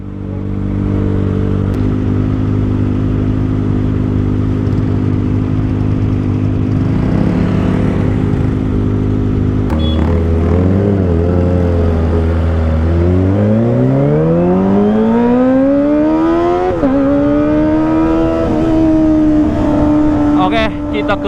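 A Kawasaki ZX25R motorcycle with a loud aftermarket exhaust idles with a deep steady drone, then revs, the pitch sliding upward as it pulls away through narrow alleys, loud and close throughout.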